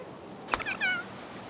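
A cat meows in The Sims 3 video game, one short clear meow followed by a second drawn-out falling meow, fairly close and alone over a faint steady background.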